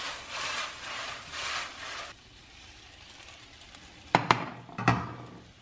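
Pasta is stirred in a pan, a quiet scraping and rubbing for a couple of seconds, followed by a few sharp clattering knocks of utensil against the pan.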